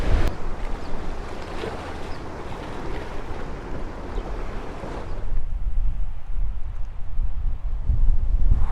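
Strong wind buffets the microphone with the roar of waves below a cliff edge on Comino, Malta; a steady broadband rush that eases slightly midway, then swells again, with no talk.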